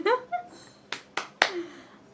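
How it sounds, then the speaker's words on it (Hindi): A woman claps her hands three times in a slow, even rhythm, sharp and close, after a brief bit of speech at the start. "मैं तालियां बजा रही हूँ आप लोगों के लिए"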